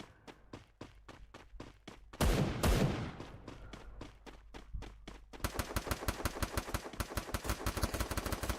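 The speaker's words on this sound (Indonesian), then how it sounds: "Ini nembak lagi." Gunfire in an esports battle video game: steady single shots give way to a loud blast of noise, then rapid sustained automatic fire, all close and punchy with no talk over it.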